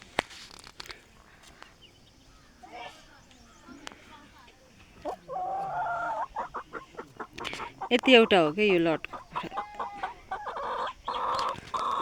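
Giriraj chickens clucking on a farm, with short clucks and a few louder squawking calls mixed under a person talking nearby.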